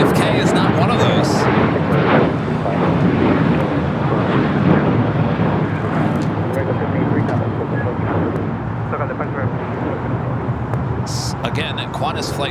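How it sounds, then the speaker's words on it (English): A Qantas Flight 11 airliner arriving at LAX from Sydney: a loud, broad jet roar that fills the stretch and slowly eases, with wind buffeting the microphone and someone talking over it. "Qantas Flight 11 coming in from Sydney, Australia"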